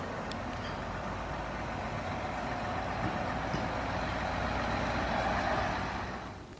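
Large trucks hauling Formula E race logistics to the JIS complex in North Jakarta under police escort, a steady low engine rumble that holds loud and fades near the end.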